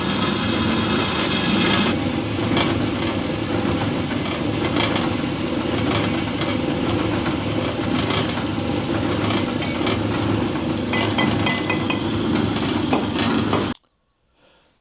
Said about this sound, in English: we're just about to cut a piece of exhaust pipe on an angle